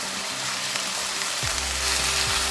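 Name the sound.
stirring spices frying in a pan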